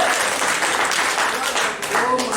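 A church congregation applauds, with dense, steady clapping filling the room while a preacher's voice carries over it.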